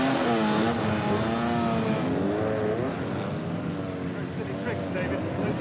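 A four-wheel-drive rally car is driven hard, its engine revving and whining up and down through changing pitches, loud and close, with voices partly over it.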